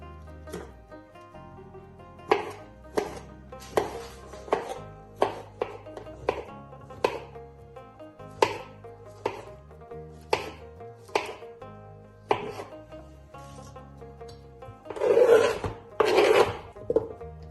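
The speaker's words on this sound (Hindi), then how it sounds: "इतनी देर पे हम अपने फ्रूट्स काट लेंगे।" Fruit, apples and grapes among them, is chopped for a dessert pudding, giving a run of sharp, rhythmic knife taps on a board. The chops come near and fairly crisp, with a louder scraping burst near the end and no talking.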